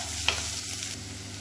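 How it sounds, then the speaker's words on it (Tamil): Onion, ginger-garlic paste and mint frying in a pan for samosa filling, a steady low sizzle with a brief stirring scrape, no voices. "இப்போ இது எல்லாமே நல்லா பொரியுது."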